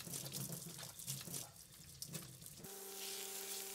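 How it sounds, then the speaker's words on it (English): Tap water runs into a kitchen sink during handwashing, a close, soft splashing that breaks up as hands move under it, then settles into a steady, even stream with a faint pipe hum. "after handling it, you really need to wash your hands"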